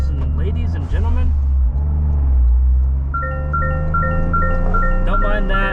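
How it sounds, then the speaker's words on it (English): A seatbelt warning alarm in a 2023 Toyota GR Corolla, a rapid series of repeated electronic beeps, starts partway through over loud engine rumble while the car drives, after a voice is heard at the start. "That seatbelt alarm is absolutely atrocious."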